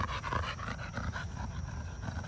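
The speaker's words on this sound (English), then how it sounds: "that dog trying to catch his breath" A Cane Corso dog pants quickly and steadily at close range, catching its breath in rapid rhythmic huffs.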